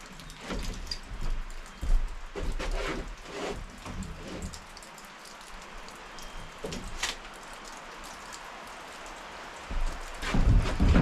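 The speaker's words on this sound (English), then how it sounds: "Rain's picking up, blowing in on me over here." Steady rain pattering on surfaces around an off-grid Alaska homestead tiny house, wind gusts pushing it in heavier, with louder bursts near the start and end and no talk.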